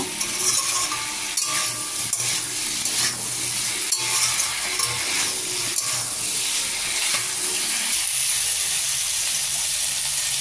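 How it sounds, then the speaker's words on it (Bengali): Spice masala stir-fried in a pan while cooking down lentil dumplings, with a steady loud sizzle and hiss, scraping stirs and spoon knocks throughout, the sound easing somewhat near the end. "এখন কষিয়ে নিব ভালো করে, খুব ভালো করে কষিয়ে নেব"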